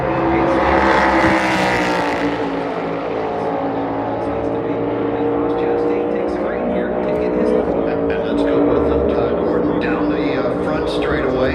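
NASCAR Cup race car at Phoenix Raceway during championship qualifying, its engine roaring steadily as it accelerates down the back straightaway, loud and sustained, with a commentator talking over it throughout.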